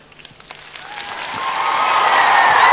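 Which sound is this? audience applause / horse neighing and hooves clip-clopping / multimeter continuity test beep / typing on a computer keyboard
audience applause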